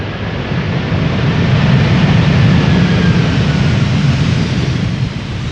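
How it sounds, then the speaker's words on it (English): A Suriname Airways Airbus A330-200 arriving from Paramaribo gives off a loud, steady jet roar that swells slightly mid-pass and holds broad and continuous throughout, with no talk. "Used to be an A340, now it is a very bland A33200. Flying for Suriname Airways."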